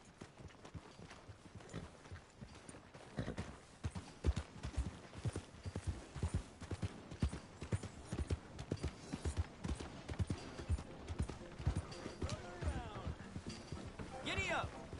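Horse hooves clip-clop steadily across ground in the video game Red Dead Redemption 2, an even trotting rhythm with a voice talking over the footfalls.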